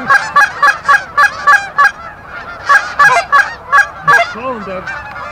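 Canada geese honk during a goose hunt in northern Alberta, a loud close flock giving rapid overlapping honks that continue through the clip and then trail off into a few lower calls.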